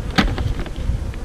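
Honeybees buzzing around an open hive, a close, fluttering drone with a few louder passes of single bees near the ear.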